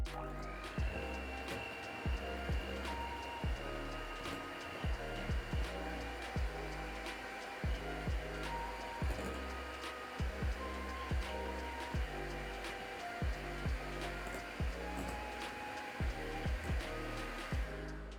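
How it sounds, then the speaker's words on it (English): An electric hand mixer whirs steadily as it beats sugar into softened butter for a strawberry marble cake. The motor hum stays close and constant, with regular light knocks as the beaters hit the bowl. "I'm going to use my hand mixer to mix up the sugar and butter together."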